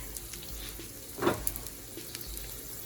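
Dumplings fry in a heating pan with a soft, steady sizzle and a brief louder crackle near the middle, close but quiet, with no one talking.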